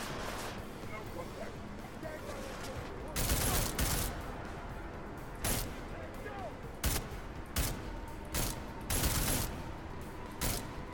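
Gunfire in the video game Deus Ex Mankind Divided, several loud sharp shots spaced irregularly over a constant noisy game background, with a voice talking in between.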